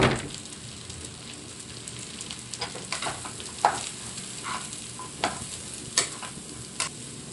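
Carrots stir-frying in a pan for pansit canton, giving a steady sizzle with irregular scraping and clattering stir strokes from a utensil, close and moderately loud.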